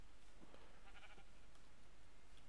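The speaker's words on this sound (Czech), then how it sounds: "ovce" Close and clear, a sheep in the Minecraft video game gives a couple of short bleats over a steady background hiss.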